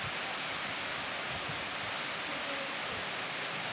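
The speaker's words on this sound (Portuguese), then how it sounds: "É chuva, vó. É muita chuva, é muita chuva." Heavy rain falling hard and continuously, a thick close-up wash of drops drumming on surfaces, steady in loudness from start to end with no talk.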